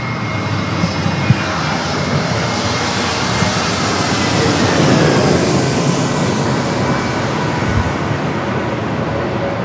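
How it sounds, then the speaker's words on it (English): A Frontier Airbus A320neo jet, inbound from Phoenix, landing at San Diego airport, a loud steady broadband engine roar that swells slightly in the middle and stays strong, with no talk. "That was a Frontier flight coming in from Phoenix, A320neo."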